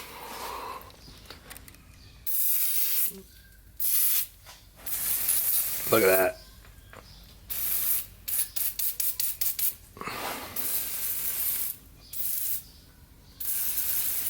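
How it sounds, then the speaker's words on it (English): PB Blaster penetrating oil hisses from an aerosol can in repeated short and longer bursts, including a quick rapid series, while work goes on under a 1966 double cab, with a brief spoken comment. "I am gonna spray everything with this PB Blaster"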